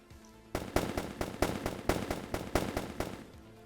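Gunfire in a VRChat roleplay game, a rapid burst of about a dozen loud, sharp shots in quick succession after a moment of quiet, close up and without talk.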